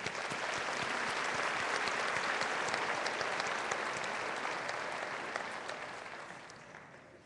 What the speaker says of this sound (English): Now, if you will please acknowledge them with your applause